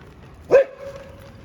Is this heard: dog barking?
yes